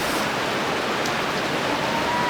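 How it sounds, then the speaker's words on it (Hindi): Hot spring water gushes steadily from a steaming outlet at Banas in the Rawai area of the Yamuna valley, a loud, continuous broadband rush close by with no pauses and no voices. "बहुत तेज़ भाप वाला पानी यहाँ से निकल रहा है"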